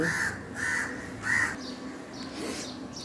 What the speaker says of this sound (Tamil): காக்கா வந்து முட்டை பொரிச்சிருச்சுங்க.